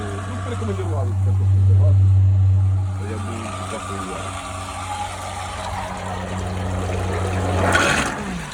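A pump forces water down a freshly drilled borehole, making a steady low mechanical drone with rushing, gurgling water. The flow swells louder early on, then settles, ending with a brief splashing burst.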